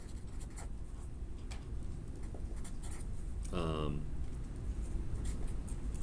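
A pen or marker scratches across a board while a circuit wire is drawn during an electrical engineering lecture, with short strokes under steady room noise and a quick squeaky stroke partway through.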